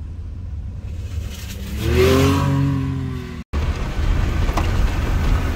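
A motorbike speeds past on a road on the Krabbe Peninsula in Primorye, its engine rising to a loud revving peak and then fading, with a steady engine drone continuing afterward.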